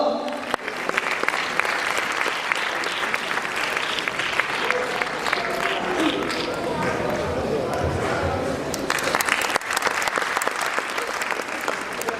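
An audience at an arts gathering gives sustained applause for a Multan artist, a dense continuous wash of clapping that swells and fades with voices mixed in.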